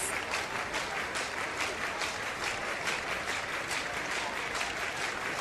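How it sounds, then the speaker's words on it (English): Steady crowd roar and clapping from the main stand of a stadium during an under-20 athletics championship race in Tampere, continuous and fairly distant, swelling slightly as runners come down the home straight. "The crowd are getting into it as well on this home straight in the main tribune."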